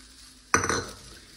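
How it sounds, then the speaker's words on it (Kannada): Horse gram curry (saaru) is stirred in a pot, giving one sudden scraping clink of a utensil that fades over a moment against a quiet kitchen background. "ಸ್ವಲ್ಪ ಸಾರನ್ನ ತೆಗೆದುಕೊಂಡು ಇದರೊಳಗಡೆ ಹಾಕಿ ಮಿಕ್ಸ್ ಮಾಡಿ"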